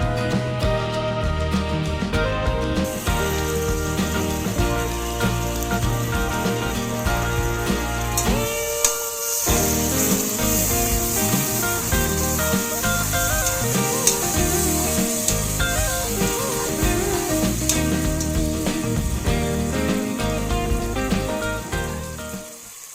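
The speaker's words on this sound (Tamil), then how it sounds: "இஞ்சி பூண்டு பேஸ்ட்டையும் போட்டு அதோட சேர்த்து வதக்குங்க." Ginger garlic paste sizzling steadily as it is sautéed in a pan for chicken basmati biryani, a continuous bright crackle over a constant tonal background that runs for the whole stretch.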